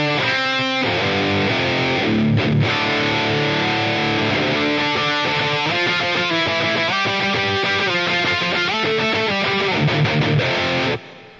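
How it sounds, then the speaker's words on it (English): A high-gain electric guitar rhythm part played through a Line 6 HX Stomp on the Revv Gen Purple amp model, with a legacy Hall reverb. Dense, distorted chugging chords play continuously, then cut off abruptly at the end, with no speech. "For the reverb, I'm using a legacy Hall reverb"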